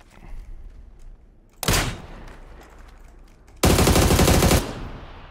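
Automatic gunfire in PUBG on the Vikendi map: a short close burst followed after a pause by a longer, louder sustained volley of rapid shots, with quieter faint shots and ambient game noise before them.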